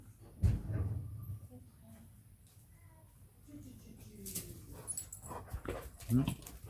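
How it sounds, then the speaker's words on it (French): Dogs at play give short whimpers and yips, faint and somewhat distant, scattered across a quiet outdoor background with someone talking over parts of it. "Et voilà, Daimon, il y a les chiens qui sont en train de s'amuser là."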